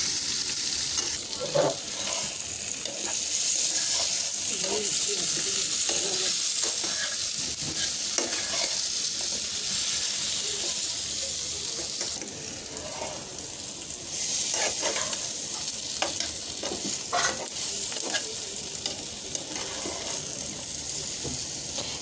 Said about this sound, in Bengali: এখন মিষ্টি কুমড়াটা ভালো করে ভাজা হবে।